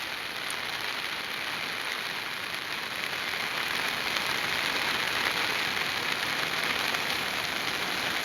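Heavy monsoon rain pours down beside a flooded river, a dense, continuous roar of falling water that stays loud and even from start to finish with no voices.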